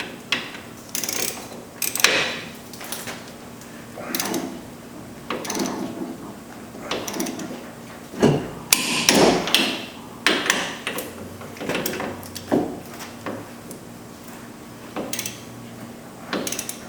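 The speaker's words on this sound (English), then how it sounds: "torque these to 100 foot-pounds" A torque wrench tightens suspension strut bolts to 100 foot-pounds, giving a series of metallic clicks, ratcheting and clunks at an uneven pace, fairly close and moderate in level.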